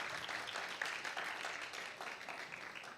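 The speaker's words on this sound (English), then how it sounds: "Another round of applause." Applause from an audience at a startup pitch event as one presenter finishes and the next is called up, a quiet, steady patter of many hands lasting throughout with no voices.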